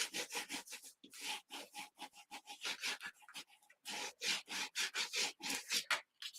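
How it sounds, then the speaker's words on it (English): A tool burnishes a paper layer on a handmade floral birthday card, giving a run of rapid rhythmic rubbing and scraping strokes, close and fairly loud, in short bursts with brief pauses and no talking. "I'm going to burnish this back a little bit, just to make sure we have good connection"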